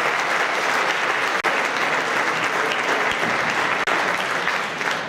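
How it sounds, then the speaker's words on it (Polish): Steady, loud applause from a crowd at a presentation of Stal Stalowa Wola football players, sustained clapping filling the whole stretch without a break. "Cały czas brawa, kochani"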